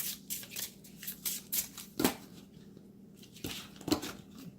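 Tarot cards are shuffled by hand in quick papery riffles and soft slaps, close up with no talking.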